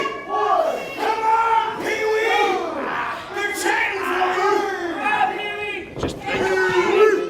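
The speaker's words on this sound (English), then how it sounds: "You can hear the crowd getting behind him." A wrestling crowd at an independent show yells, whoops and chants in a loud, continuous roar that rises and falls with dense overlapping voices throughout.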